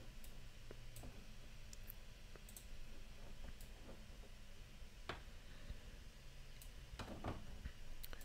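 A computer mouse clicks sparsely and softly, with isolated sharp clicks spaced irregularly over a steady background hiss and no talking.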